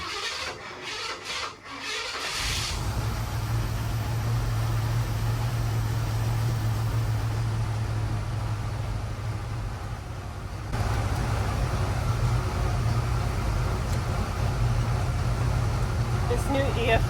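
A Ford Bronco with an EFI setup and advanced ignition timing turns over and then runs, making a continuous rough engine drone after a few seconds of handling noise, loud and close, with people talking over it.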